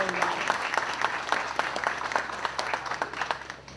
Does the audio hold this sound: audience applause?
yes